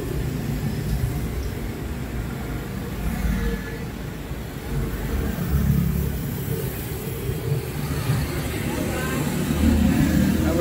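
Busy street traffic outside a hotel in Vietnam, with car and motorbike engines rumbling and swelling continuously, close and fairly loud with a constant city hum.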